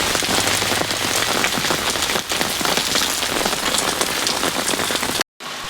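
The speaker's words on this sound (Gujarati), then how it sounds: "તો જો મિત્રો, વરસાદ ચાલુ છે" Heavy monsoon rain pours steadily outdoors amid green surroundings, a dense continuous hiss of drops striking surfaces, loud and close, with a brief drop-out near the end.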